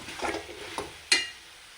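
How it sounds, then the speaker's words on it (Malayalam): Paneer pieces sautéed in a pan with tomato sauce for a paneer chilli roast, giving a soft stirring scrape with a low sizzle and a sharp clink of the spoon against the pan near the end. "പനീർ നമുക്ക് ഇനി ചേർത്ത് കൊടുക്കാം ഇപ്പോൾ ഒന്ന് വഴറ്റി കൊടുത്തിട്ട്"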